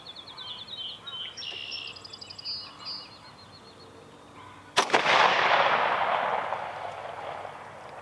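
A Smith & Wesson Tactical 45 pistol fires one sharp, loud shot outdoors after a quiet stretch with distant bird calls, followed by a long echoing rumble that slowly fades.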